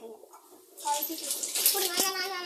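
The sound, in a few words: child washing hands with water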